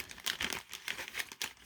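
Thin plastic bag holding the cape for a Pop Mart Gong Shazam (Kingdom Come) action figure crinkles in quick, close bursts while being handled, with short crisp rustles repeating through the moment and no talking.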